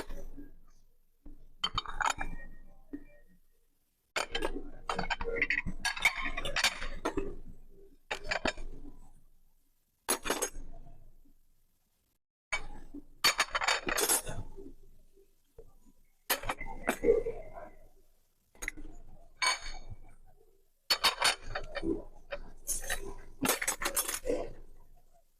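A waiter clears cutlery and dishes from a restaurant table, producing close bursts of metallic clinks and scrapes separated by short silent gaps.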